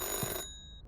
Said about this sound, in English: Phone's already ringing?